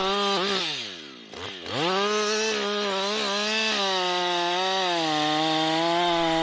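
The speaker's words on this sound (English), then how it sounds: "This professional-grade chainsaw is trusted by loggers around the" Husqvarna 560XP2 professional chainsaw cutting into a big tree, a loud, close, high-revving engine whine that dips briefly under load, then holds steady at full throttle.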